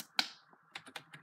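A few isolated computer keyboard keystrokes, one sharp click followed by several lighter taps spaced irregularly, close and alone with no voices.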